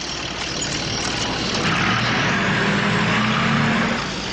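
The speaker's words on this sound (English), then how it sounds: "Using a 600 horsepower crane, could they lift the rock?" A 600 horsepower crane engine running: a steady, loud low rumble with a constant drone that holds evenly throughout, no speech.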